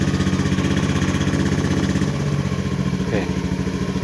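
A used motorcycle engine idles steadily close by, an even, rapid mechanical putter with light clatter and a brief shift in tone near the end.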